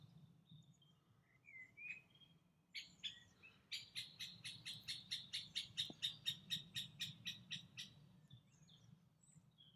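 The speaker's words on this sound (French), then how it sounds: "il y a même les oiseaux." Birds sing in the woods, with scattered chirps first and then one bird repeating a quick series of sharp, evenly spaced notes that swell and then fade, faint against a soft low rumble.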